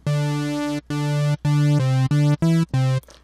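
Buzzy, distorted synth tone from a classic wavetable oscillator in Native Instruments Massive, sustained notes in six bursts separated by short gaps, bright and harmonically dense, heard alone.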